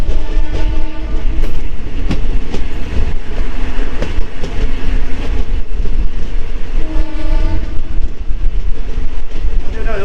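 A DEMU special train travels between Lataguri and New Changrabandha with a loud, continuous rumble and rhythmic clatter of wheels on rails, and two sustained horn blasts ring out partway through.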